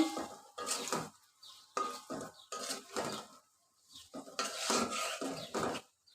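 Beef kala bhuna simmering and being stirred in a pan over medium heat: repeated bursts of scraping and clattering utensil strokes against the pot, separated by brief quieter pauses.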